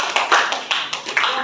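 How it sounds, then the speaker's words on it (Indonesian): Classroom applause for student group 3 in an online teacher-training class, a brief scattered patter of a few hands clapping for about a second and a half, fairly close and thin. "Oke, tepuk tangan untuk"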